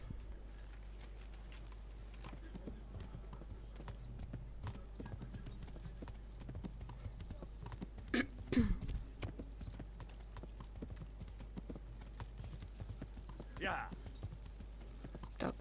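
Horse hooves clip-clop in the video game Kingdom Come: Deliverance, a faint, steady walking rhythm running throughout over a constant low hum, with a slightly louder stretch near the middle.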